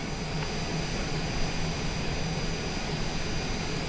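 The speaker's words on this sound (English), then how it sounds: "Taxiing to general aviation parking via taxiway Bravo, cross runway 21 Bravo" A Cessna light airplane taxiing, with a steady, loud, broadband engine drone and hum heard from inside throughout, with no talking.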